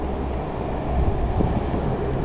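A Delhi Metro train pulls into a station platform in the evening, a loud, continuous low rumble with broadband rushing noise that swells slightly as it draws near.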